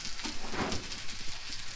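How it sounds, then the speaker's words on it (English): Steady rain falls through a rainy morning, a soft continuous hiss with scattered patter, moderately loud and alone with no voices. "Still rainy. The whole week will be raining."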